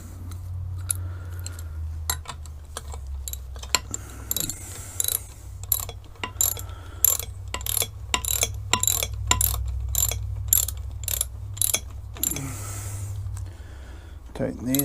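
A hand ratchet tightens bolts on the lower unit of a Yamaha 4hp outboard, its clicking pawl ticking in steady, repeated strokes close by over a low background hum, with a brief voice toward the end.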